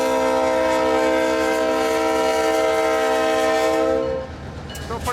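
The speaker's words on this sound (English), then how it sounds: "Pretty good looking old locomotive," An EMD SD38-2 diesel locomotive sounds a long, loud, steady horn close by for about four seconds, then the blast cuts off, leaving rumbling rail noise.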